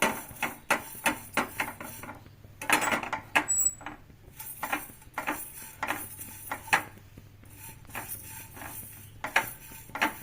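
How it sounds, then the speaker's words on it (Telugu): Coriander seeds and cumin dry-roasting in a pan over a low flame, with a scatter of sharp clinks and rattles as the seeds and a utensil strike the metal, irregular and close over a quiet background. "ఒక వన్ అండ్ హాఫ్ స్పూను ధనియాలు ఇవి రెండు సిమ్లో పెట్టి మంచిగా వేయించుకోవాలండి"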